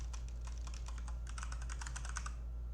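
Quick, light clicking of keys on a computer keyboard runs in irregular bursts over a steady low background hum, close and fairly quiet, with no voice.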